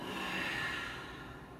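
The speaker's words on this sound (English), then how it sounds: "So as you're breathing in, belly's full. Exhale." A slow, deep breath during a gentle yin yoga practice: a soft, airy exhale that swells early and then tapers off gradually over nearly two seconds, close and quiet with no talking.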